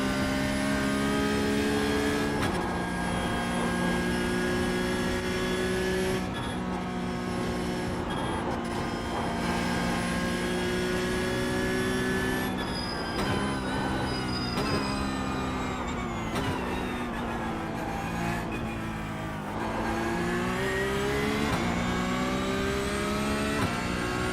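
Toyota GR86 race car in iRacing revving hard on track at Okayama, a loud sustained engine drone with shifting pitch, brief lifts and gear changes around the middle and near the end, no talk.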